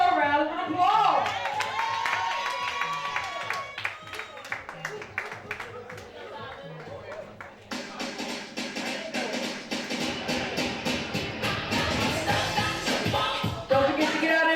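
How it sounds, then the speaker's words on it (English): Scattered audience clapping for Gayle Chanefield at a community event, heard under a speaker's voice at first, then swelling into fuller, denser applause in the second half. "Give her a round of applause."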